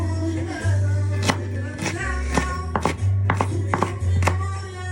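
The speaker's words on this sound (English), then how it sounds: "So after the grueling chopping of all the onions" A knife chops onions on a cutting board for a Pastel de Choclo recipe, with a dozen or so sharp, close, irregular chops over a steady low hum.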